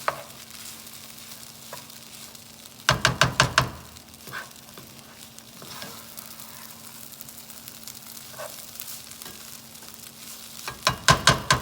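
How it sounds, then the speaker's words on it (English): Steady low sizzle of food frying in a pan runs throughout, broken by a few sharp clattering bursts near the start and end. "Let's let it do that sizzling a little bit on that side"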